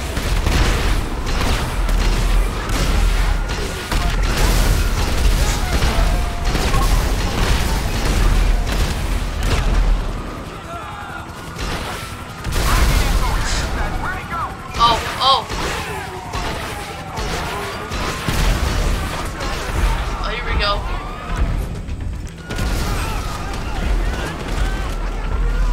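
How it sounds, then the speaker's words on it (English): Repeated rocket launcher blasts in GTA 5, loud booming explosions and crashes fired in quick succession over nearly half a minute, with a player talking excitedly over the din. "I'm just spamming my rocket launcher."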